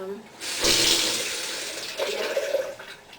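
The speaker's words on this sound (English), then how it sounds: "you want to fill the rest up with water here in your sink here" Tap water runs into a container in a sink while filling it for film processing, a bright rushing stream that swells, eases, then surges again briefly near the end.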